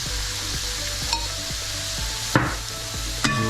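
Onion masala is stirred in a frying pan under a steady sizzle, with a regular rhythm of soft spoon scrapes and several sharper clanks against the pan, close and fairly loud.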